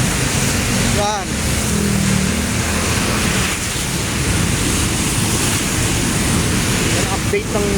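A river swollen by Typhoon Enteng rushes in flood, a loud, constant broadband roar of water with wind buffeting the microphone and a voice speaking over it.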